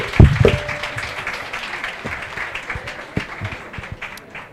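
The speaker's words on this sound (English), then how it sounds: "Can I ask for a warm round of applause for Honorable Minister Ndabeni," An audience at a Women Economic Assembly side event during the Mining Indaba applauds a government minister, with a brief louder swell at the start that settles into steady, moderate clapping from a seated crowd.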